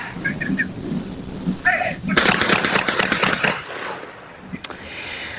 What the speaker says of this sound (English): New video this morning shows the moments shots rang out in Deltona.